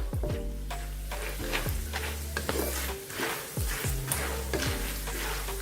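Curry leaves crackle and sizzle in hot oil for storable kutta avalakki masala poha, a steady close frying hiss with repeated stirring scrapes and light pan knocks throughout.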